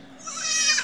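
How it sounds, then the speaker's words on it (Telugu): Young goat kids bleat in a short, close, wavering cry that swells and then fades, with no talking, heard by a roadside in Harihar. "మంచిగా మేక పిల్లలు ఇవిడ ఎట్లున్నాయా."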